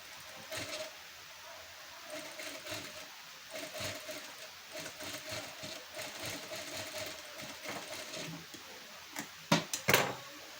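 A sewing machine stitches a double tuck on a blouse katori piece: a faint, steady whir of stitching with a couple of sharper clicks near the end.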